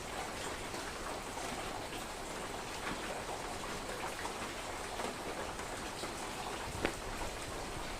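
Heavy nighttime rain falling steadily, a dense even wash of drops on surfaces with no talking and one brief sharp tick near the end.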